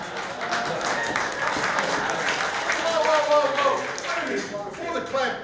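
An audience claps at an outdoor BBQ cook-off at a resort, steady dense applause mixed with crowd chatter and voices throughout.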